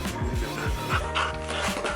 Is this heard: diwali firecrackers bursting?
no